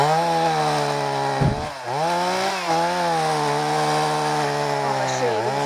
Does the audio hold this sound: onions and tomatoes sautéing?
no